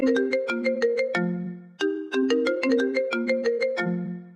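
A phone ringtone plays a bright, repeating electronic melody in two near-identical phrases with a short gap between them, clear and alone.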